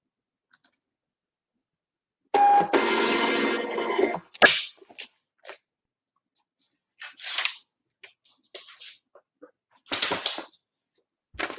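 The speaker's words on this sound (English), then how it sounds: "I heard that printer on the other side of the warehouse," A Zebra label printer prints tags somewhere in a warehouse, giving a dense two-second burst of whirring and clicking. Sharp mechanical clicks and short rasps follow at scattered intervals, fairly close and alone, with no talk.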